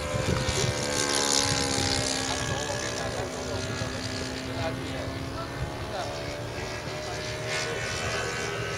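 A P-51 propeller aircraft in flight, its engine droning steadily and loudly close by for the whole stretch, with a constant rumbling hum.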